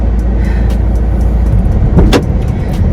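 Camper van driving on a road in Bridlington, heard from inside the cab as a loud, steady engine and road rumble with a few faint rattles.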